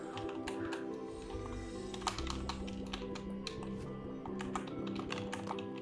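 Rapid, hard clattering on a computer keyboard during a Ligo game session, a dense burst of forceful key strikes pounded continuously and close up with no pauses.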